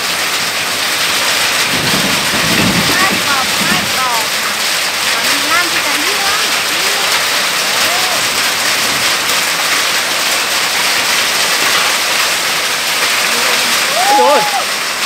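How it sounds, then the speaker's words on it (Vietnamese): Heavy rain with hail pours down on a mountain village, a loud, dense, steady hiss throughout, with scattered voices talking over it. "Mưa quá nhiều."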